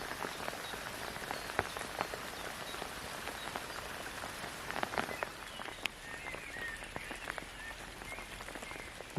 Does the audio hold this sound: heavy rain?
yes